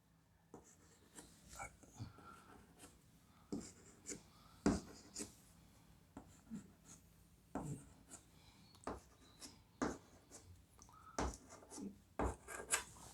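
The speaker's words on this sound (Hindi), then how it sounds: "हम इसको इस तरह से लिख दें" Marker or chalk scrapes and taps against a classroom board while a chemistry teacher writes out a diene structure, quiet, close, irregular strokes spread over several seconds with brief gaps, no voices.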